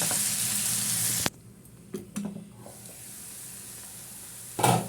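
Tomatoes fry in a pan for an Afghani omelette with a bright, close hiss that cuts off abruptly, leaving quiet clinks and stirring before the sizzle briefly swells again.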